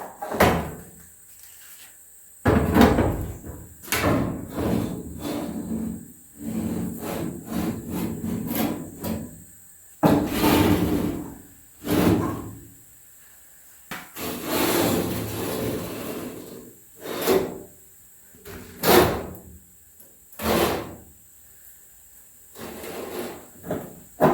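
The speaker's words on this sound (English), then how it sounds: "I never did open any of these drawers here." Wooden drawers in an old abandoned house pulled open and pushed shut, a long series of knocks, slides and thumps at close range, some quick and clustered, others spaced apart.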